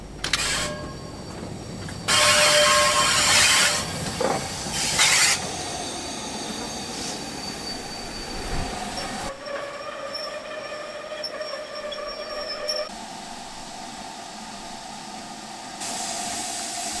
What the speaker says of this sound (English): There's a Scotrail class 156 coming